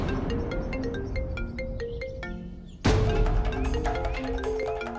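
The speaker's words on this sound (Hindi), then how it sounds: "बिल्कुल सही समय पर उसी का फोन आ रहा है।" A phone ringtone plays a melodic, repeating electronic tune for an incoming call, steady and fairly loud, then jumps sharply louder and brighter partway through as it keeps ringing with no one speaking.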